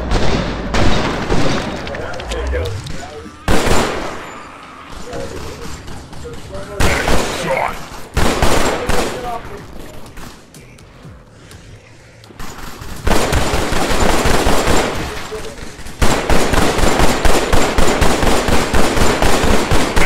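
Rapid gunfire in the VR horde-mode game Killing Floor: Incursion, loud bursts of automatic shots broken by short pauses, continuing steadily near the end, with a voice talking over it.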